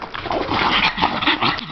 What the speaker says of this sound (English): She's a very happy dog. She loves to say hello.